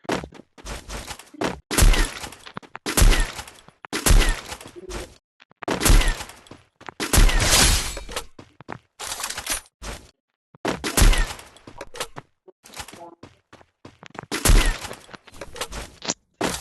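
AWM sniper rifle shots in a mobile shooting game, a series of loud, sharp bursts repeating every second or so with brief gaps between them.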